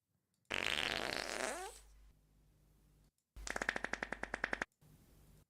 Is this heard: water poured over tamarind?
no